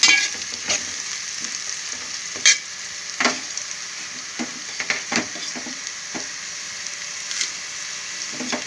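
Garlic frying in a pan with oil, a steady close sizzle broken by sharp scrapes and clatters as it is stirred, with no one talking.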